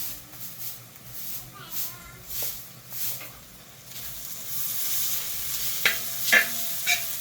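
Ginger sizzling softly in a hot pan while being stirred for chicken biryani, with a quiet steady frying hiss, scraping stir strokes and a few louder clinks near the end.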